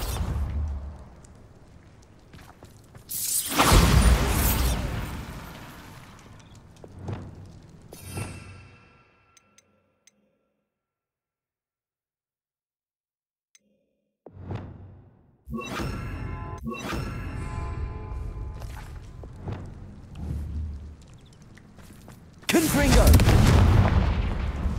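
Bombarda blasting spell cast in the Hogwarts Legacy video game: loud booming explosive bursts with crashing debris, one near the start and another at the end, separated by a silent gap and busy game sounds.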